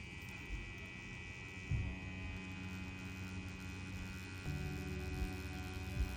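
A tattoo machine runs on fake skin, a faint, steady electric buzzing hum with a constant high whine and soft low rumbles, quiet and continuous, with no talking.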